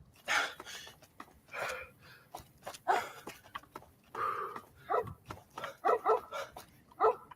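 Several dogs in the video game Fallout: Tale of Two Wastelands bark and yip in rapid, uneven bursts, fairly close and loud, with some whimpering mixed in among the barks.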